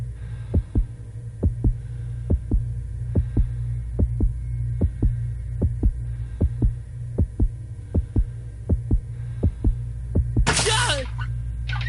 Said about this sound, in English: Losers get to spin the loser wheel.